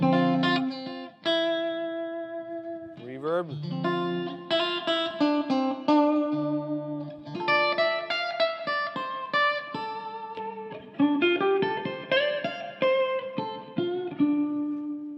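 A clean electric guitar plays melodic phrases and chords alone through an HT50 Club amplifier head's clean channel, bright and clear notes ringing out with a spacious reverb tail.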